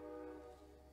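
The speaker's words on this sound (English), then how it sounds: "there's the train, if you can hear the train." A distant train horn sounds as a faint, sustained tonal blast with a soft rail rumble beneath, steady and then slowly fading in a quiet setting.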